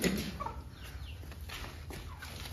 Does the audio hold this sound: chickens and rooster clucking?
yes